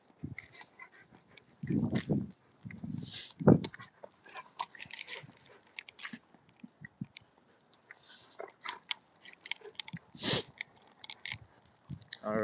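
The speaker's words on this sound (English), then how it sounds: "Now my dog wants to play." A dog playing and chewing close by, with intermittent crunchy bites and gnawing in short bursts, plus occasional faint whimpers and no talking.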